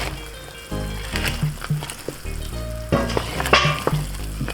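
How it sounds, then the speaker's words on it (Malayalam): Fried chicken pieces drop into boiling chilli chicken gravy, and an intense sizzle rises with crackling spits and stirring clatter. It is fairly close and loud, with faint tonal background sounds underneath. "ഇനി അത് നല്ലതുപോലെ തിളച്ച് കഴിയുമ്പോൾ നമുക്ക് ഈ ചിക്കൻ വറുത്ത് നമുക്ക് പതുക്കെ അതിനകത്ത്"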